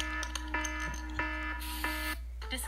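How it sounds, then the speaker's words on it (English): A steady electronic alarm tone rings continuously over a low hum, with a few clicks and brief bursts of hiss. "Shut off the alarm."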